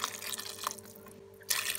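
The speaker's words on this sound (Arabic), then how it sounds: "هلأ بحط فوق المي" Water is poured into a cooking pot over pumpkin and onion, a soft splashing trickle that fades to near quiet and then returns in a brighter, louder gush at the end.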